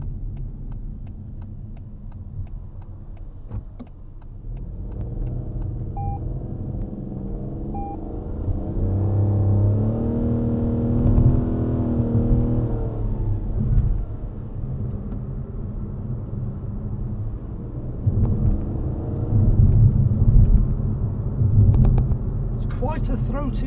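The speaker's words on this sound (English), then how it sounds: "Quite a throaty little engine when you accelerate, and it accelerates nicely." A Toyota Aygo X engine accelerates on a town road, its low throaty drone rising in pitch twice as the small car gathers speed, with steady road rumble and cabin noise throughout.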